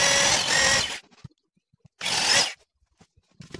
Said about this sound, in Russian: Сверлим по этим засечкам отверстия диаметром 5 мм.